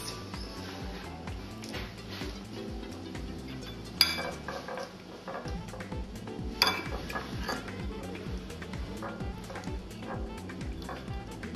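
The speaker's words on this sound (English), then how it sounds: "So now we're gonna put the swordfish into the mix" Swordfish pieces being mixed into a marinade in a bowl, with soft clinks of a utensil against the dish, faint squelching and a couple of sharper knocks in a quiet kitchen, no voices.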